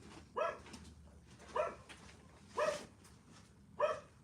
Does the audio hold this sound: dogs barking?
yes